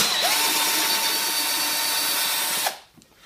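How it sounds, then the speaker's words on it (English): A power drill whirs steadily while undoing the back panel bolt on a saddle, a sustained high buzzing motor that runs close and loud, then cuts off abruptly near the end. "the other one that you need to undo is the back panel bolt here"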